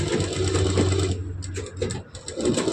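A sewing machine stitches cloth in a steady, close mechanical whir that briefly slows and falters before picking up again.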